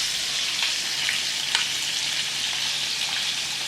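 Catfish fillets sizzle steadily in a hot pan, a dense, even frying hiss with occasional louder pops and crackles throughout, close and alone with no talking.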